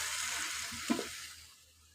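Chopped potato, eggplant and tomato tipped into hot oil with fried onions for a tilapia fish curry give a loud, close sizzle that peaks with a brief splash and then slowly fades, with no talking.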